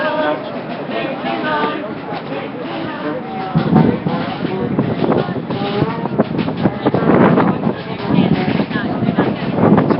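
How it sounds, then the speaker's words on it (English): Strong gusts buffet a microphone outdoors on a cold, breezy day, a loud continuous rumbling roar that swells and surges throughout. "It's a bit of a breezy day today, kind of cold."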